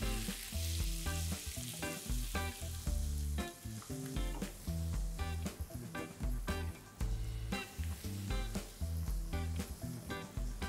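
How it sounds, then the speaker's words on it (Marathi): Chili powder sizzles in hot oil during tempering for dhaba-style soya kheema, a loud, continuous crackling fry with steady spitting and stirring throughout. "जेव्हा आपण तेलाच्या फोडणीत मिरची पावडर घालतो ना तेव्हा त्याचा"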